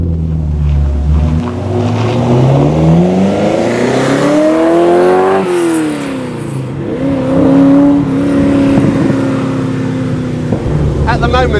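Ferrari engine with a still-sealed airbox revs and accelerates while driving, its pitch sweeping up through several gears with a shift and a lift-off, loud and close, with a little chatter mixed in.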